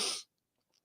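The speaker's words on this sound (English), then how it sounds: "God, I feel a sneeze coming on." A single short, forceful human sneeze, loud and close, lasting a fraction of a second and followed by near silence.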